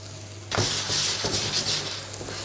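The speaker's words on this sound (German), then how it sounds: "Und die werde ich jetzt da drin erstmal richtig schön anbraten." Sliced button mushrooms hit a hot pan of clarified butter with a sudden loud hiss, settling into a steady close sizzle with faint stirring scrapes, no talking.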